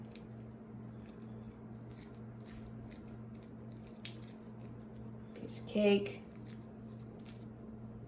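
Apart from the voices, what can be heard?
peeling shell off hard-boiled eggs by hand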